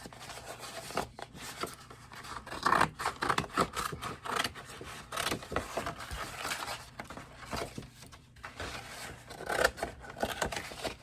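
Scissors snip and scrape through package material in a series of short, close rustling cuts with irregular pauses, fairly quiet, no talking.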